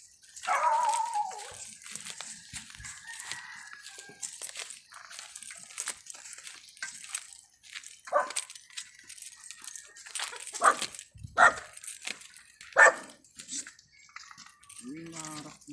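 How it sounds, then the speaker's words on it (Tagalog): Young puppy barking, whimpering and yelping in short scattered bursts nearby, mixed with people talking casually. "Oh, may tuta."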